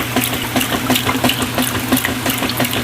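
A 1995 washing machine runs steadily alone, its motor or pump droning with a regular pulsing churn throughout.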